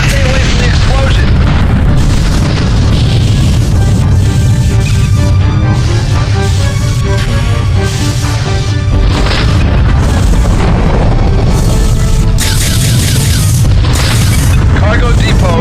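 Loud, heavy booms roll through a space-combat scene in the video game Freespace as a freighter explodes, with dense rumbling blasts and bursts layered over continuous engine and weapon noise, while a radio voice talks over the action.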